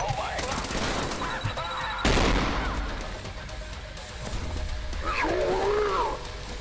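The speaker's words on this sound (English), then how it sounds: "loving the fire shotgun" A fire shotgun fires in the action shooter Trepang2: heavy booming blasts, the loudest about two seconds in, amid chaotic combat noise and shouting voices.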